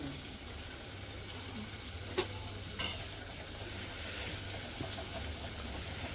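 White sesame seeds sizzle in hot tempering oil, a steady, close frying hiss that runs throughout with a couple of brief clicks from a spoon or pan.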